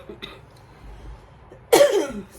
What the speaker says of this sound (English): But I've still been coughing.